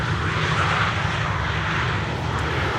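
An airliner landing on runway 18R at Schiphol, its engines in idle reverse thrust, makes a loud, steady, broadband roar that holds throughout.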